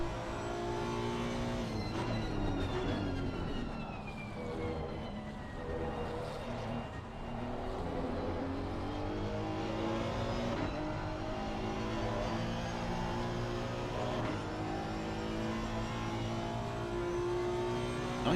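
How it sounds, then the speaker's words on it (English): Honda NSX race car engine in a sim racing game at a Belgian round, a loud continuous drone with revs climbing and falling steadily throughout. "You heard the revs of the NSX"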